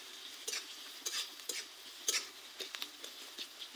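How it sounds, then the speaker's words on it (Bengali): Green chili and onion sizzle in hot oil while a spatula stirs them around the pan in short, uneven scrapes for a banana-flower curry. The sound is close and fairly quiet, with no talking. "এখন মরিচ পেঁয়াজটা একটু কিছু সময় ধরে নাড়াচাড়া করে ভালোভাবে একটু আমড়িয়ে নিব।"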